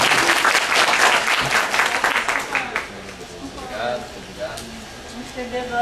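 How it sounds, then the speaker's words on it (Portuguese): Audience applause closing a talk on equality in modern Brazil, a burst of clapping that fades after a few seconds, followed by scattered voices and room chatter. "eu quero pedir uma salva de palmas"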